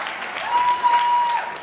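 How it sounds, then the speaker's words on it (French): A live convention audience at Paris Manga claps for an actor's thirtieth birthday as the candles arrive, a short burst of moderate applause with a faint voice riding over it. "Allez, on applaudit, s'il vous plaît"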